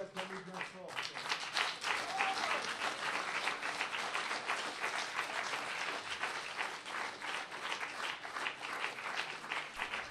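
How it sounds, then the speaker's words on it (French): A church congregation applauds and cheers in praise, sustained dense clapping filling the room for about ten seconds, loud and close, with a voice briefly audible at the start. "Est-ce qu'on peut acclamer le Seigneur? Oh Jésus. On peut l'acclamer bien fort."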